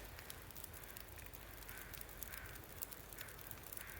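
Crows caw faintly and repeatedly in the wintry wilderness of The Long Dark, several distant calls spread across a steady background hiss.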